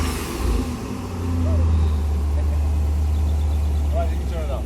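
A 2000 Jeep Grand Cherokee 4.7 V8 with twin tip exhaust is revved once, rising to a louder swell before settling back to a steady rumble, with voices talking over it.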